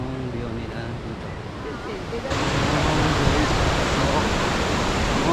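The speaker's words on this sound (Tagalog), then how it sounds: "dito tayo ngayon sa Shifen Waterfalls" Shifen Waterfalls in Taiwan pour with a steady, broad roar of falling water that grows louder partway through, heard as continuous outdoor rushing noise with no clear speech.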